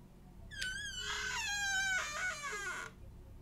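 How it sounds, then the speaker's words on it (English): A very squeaky door creaks open in a horror video game, a long, high, wavering whine lasting about two seconds that bends in pitch before cutting off, loud and alone over a faint background hum. "That is a very squeaky door."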